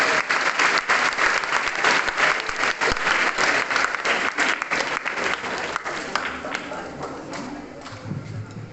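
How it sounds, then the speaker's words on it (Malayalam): Sustained audience applause at a Reading Day event where mothers read aloud, a dense crowd of hands clapping loudly throughout before gradually thinning and fading toward the end. "അജിത ജയപ്രകാശിനെ നമുക്ക് നല്ലൊരു കൈയടിയോടുകൂടി സ്വീകരിക്കാം."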